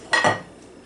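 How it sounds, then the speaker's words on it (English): A single metallic clink and scrape of a utensil against a frying pan as pork chops are turned while browning, a short sharp clatter followed by a faint fading sizzle. "We're going to brown that just a little bit and turn it over and brown the other side."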